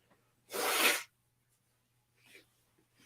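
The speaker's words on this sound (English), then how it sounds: "I know I'm going to sneeze" A single loud, breathy sneeze close to the microphone, followed by quiet rustling and faint breath sounds.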